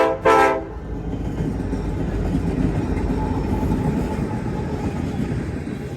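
Westbound freight train with a brief loud horn blast at the start, then a steady heavy rumble and rolling clatter of railcars passing close by, continuous to the end.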